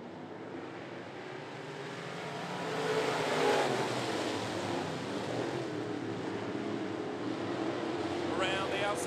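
Pack of modified race cars roaring together on an oval at 411 Motor Speedway as the field takes the green flag, a dense loud engine wash swelling near the middle and holding steady.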